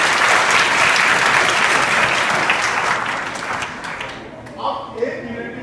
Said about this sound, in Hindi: चलो हाथ नीचे और अपने लिए जोरदार ताली बजाओ